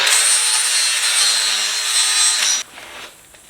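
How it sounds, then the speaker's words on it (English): A wire wheel on an angle grinder scrubs welds on a steel gas cylinder, giving a loud, continuous harsh whirring abrasion close by that cuts off abruptly near the end, leaving quieter scraping. "Now we're going to clean up these welds just a little bit."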